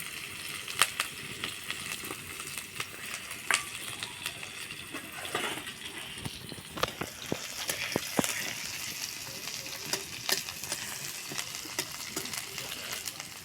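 Asafoetida, finely chopped ginger and chili sizzle in hot oil in a pan, a soft continuous frying hiss broken by sharp pops and spatters and occasional clinks of a spoon stirring.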